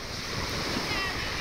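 Sea surf rolling onto a beach at a Kemer resort in Turkey on a breezy day, a steady wash of waves mixed with wind rumble in a brief, fairly quiet stretch.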